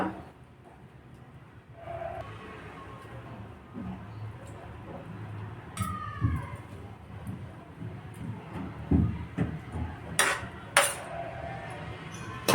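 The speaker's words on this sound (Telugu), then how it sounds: "ఈ రైస్ని ఇప్పుడు ఇందులోకి వేసేయాలి" Ordinary polished rice, not basmati, tipped into a pot for cauliflower dum biryani, with a few scattered clanks and rattles over about twelve seconds, louder toward the end, against a busy kitchen background.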